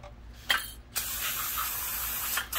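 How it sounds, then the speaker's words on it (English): Short aerosol brake cleaner spray bursts into a rear brake caliper of a Mercedes SL550 R231, then a long continuous hissing spray close by, ending with another brief burst. "we spray inside this caliper here"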